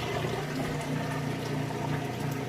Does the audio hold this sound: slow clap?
no